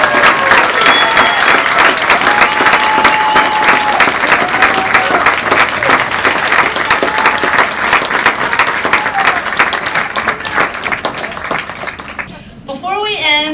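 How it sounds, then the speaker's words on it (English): A graduation ceremony audience for a school's class of 2020 bursts into sustained, loud applause with dense clapping that fills the space, tapering off near the end. "Let's give the class of 2020 a big round of applause."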